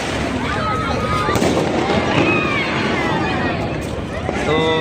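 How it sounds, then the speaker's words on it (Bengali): Fireworks and firecrackers bursting all around over Dhaka rooftops, a dense continuous crackle of pops and whistling rockets, loud and sustained throughout with distant crowd noise mixed in. "তো এনে দেখতে পাবেন চারদিকে বাজি ফোটানো হচ্ছে"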